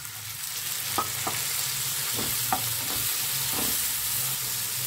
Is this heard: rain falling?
no